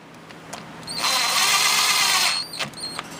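A power drill runs down the carburetor boot screws on a Ski-Doo MXZ X 440 snowmobile, a short steady whir of about a second and a half rising over quiet shop background.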